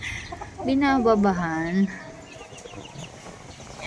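A hen clucks close by in a backyard flock of chickens, giving a short run of rising, warbling clucks before quieting, with a brief spoken word from a woman alongside and faint household background.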